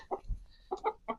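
Several short chicken clucks in quick bursts, close and fairly quiet, with brief pauses between them, as chickens are loaded into a mobile egg coop.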